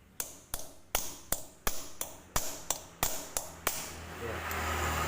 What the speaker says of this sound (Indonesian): saya buatnya dengan menggunakan obeng ketok itu ya